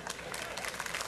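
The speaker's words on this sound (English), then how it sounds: "Hold your applause, folks." Studio audience at a 1994 country music variety show breaks into steady, dense applause and clapping, filling the room evenly without pause.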